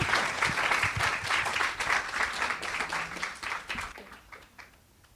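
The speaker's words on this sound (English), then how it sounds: "let's give them a round of applause" A congregation at a church service gives a round of applause, dense clapping that starts strong, then tapers and thins out toward the end.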